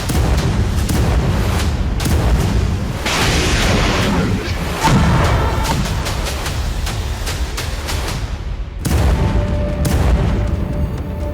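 Russian artillery and kamikaze drones bombard Ukrainian military vehicles in the Kursk fighting, a dense, continuous roar of booms and blasts with sharp bursts near the two-, five- and nine-second marks and no speech.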